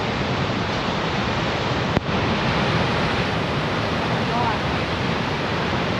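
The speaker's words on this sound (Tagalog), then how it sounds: "Oh, ayun na yung falls." A steady, loud roar of rushing water from Siffleur Falls fills the whole clip, broad and constant, with one brief click partway through.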